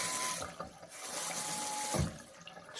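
A tap held on by a single screw runs steadily, a close, continuous rush of water into a sink, with no voices.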